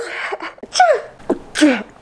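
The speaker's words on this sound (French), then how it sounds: "J'ai une crise d'éternuement" A woman sneezes in the middle of a sneezing fit, several close, loud sneezes with sharp inhales and bursts coming in quick succession, alone without speech.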